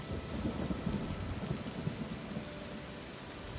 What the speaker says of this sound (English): as the rain continues to pour, and just for the sake of ambience, you begin to hear thunder